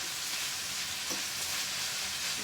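Turnip greens sizzle and fry in a pan as a fork stirs them, a dense continuous hiss with soft scraping pulses, close and steady with no talking.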